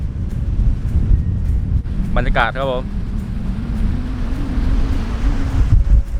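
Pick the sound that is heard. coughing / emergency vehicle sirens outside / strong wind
strong wind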